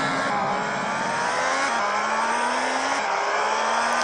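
A Ferrari engine in a video game holds a loud, steady revving drone with two brief pitch drops that sound like gear shifts, continuous and close, with no talk over it.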